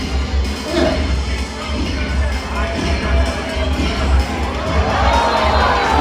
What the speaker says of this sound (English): Let's give Diana a round of applause